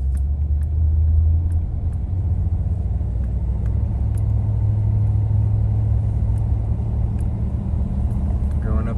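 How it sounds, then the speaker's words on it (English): A 1985 Chevrolet Caprice Classic driving along a street, a steady low engine rumble and road noise heard from inside the car, fairly even throughout, with some talking over it. "we started the car up. We're gonna take it for a spin now"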